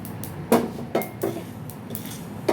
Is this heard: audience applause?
no